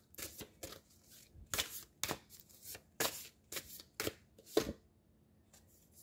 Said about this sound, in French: Je vais aller piger une petite carte ici